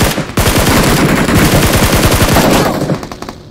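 Sustained automatic weapon fire in the battle royale game PUBG Mobile: a loud, rapid, continuous burst of closely spaced shots lasting about three seconds, then quickly fading out, with no talking.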